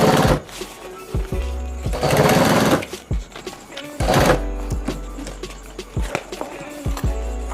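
Industrial sewing machine stitching webbing onto a homemade travel bag, running in several loud bursts of rapid whirring stitches with short pauses and thumps between them.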